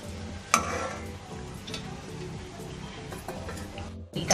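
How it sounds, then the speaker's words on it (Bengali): Oil sizzles in a pan after paneer has been fried in it, ready for cumin and other spices for a paneer curry. The sizzle is moderate and close, with a few sharp crackles and scrapes, and no talking. "এটা গরম হয়ে গেছে, এবার এর মধ্যে আমি জিরেটা ফোড়ন দিয়ে দিলাম"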